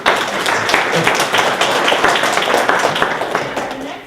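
An audience at a climate change lecture claps in steady, dense applause lasting several seconds before it tapers off.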